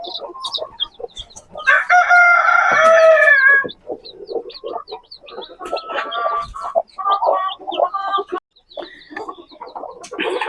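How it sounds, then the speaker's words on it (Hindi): A hen clucks and crows around three newly hatched chicken chicks, with a long loud call near the start followed by clusters of short clucks and peeps, close by and without talking. "ये 3 चूजे हैं।"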